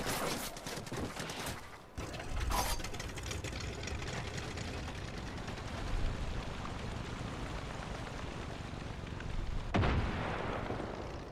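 A loud explosion booms in Far Cry 5 during a river armed convoy fight, followed by a sustained rumbling roar and crackling gunfire-like bursts that continue throughout.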